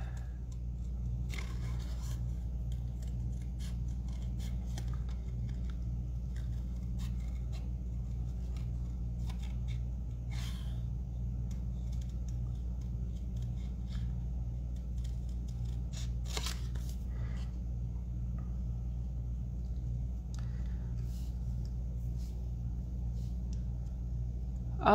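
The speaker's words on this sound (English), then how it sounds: "So that's why I'm gonna cut him out." Scissors cut out a papercraft figure, giving quiet, steady snipping and scraping over a constant low background hum throughout.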